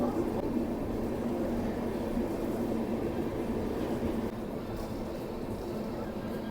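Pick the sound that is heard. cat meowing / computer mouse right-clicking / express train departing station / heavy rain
express train departing station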